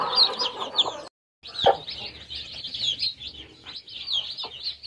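Hen clucking steadily to call her newly hatched chicks to feed, with high chick peeps throughout, a brief silent gap, then one louder cluck amid continuing chirps.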